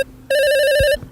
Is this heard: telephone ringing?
yes